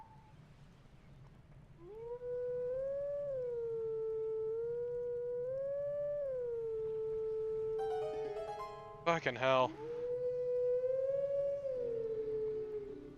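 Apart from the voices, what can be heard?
wolf howling in Legend of Zelda: Twilight Princess video game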